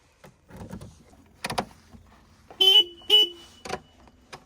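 Two short, loud tractor horn honks sound close by, separated by a brief pause, amid clicks and clunks of the tractor being worked on for failed lights.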